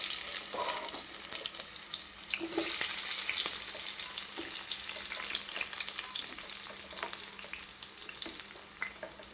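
Onions frying in a pan while making ridge gourd thokku, a continuous close sizzle with occasional stirring scrapes, steady and unbroken, with no talking.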